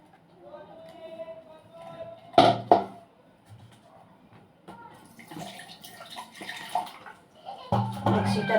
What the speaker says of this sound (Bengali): এইভাবে জল দিয়ে দিয়ে আমি ছেঁকে নেব